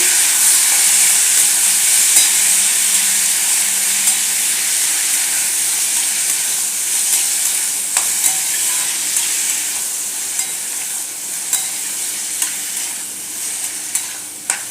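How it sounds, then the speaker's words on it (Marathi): Onion and tomato frying in a pan with a loud, steady, close sizzle and hiss, broken by repeated sharp scraping and tapping of a spatula as they are stirred. "आता याच्यात आपण टोमॅटो घालून घेऊया टोमॅटोही याच्यात व्यवस्थित मिक्स करायचा"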